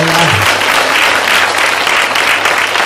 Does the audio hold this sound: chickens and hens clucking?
no